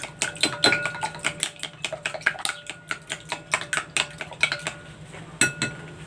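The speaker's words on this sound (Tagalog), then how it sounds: "meron ako ditong 6 na egg. Haluin ko muna." Six eggs beaten in a bowl with a utensil, a rapid run of sharp clinking taps against the bowl's side, close and steady for several seconds, with no voices.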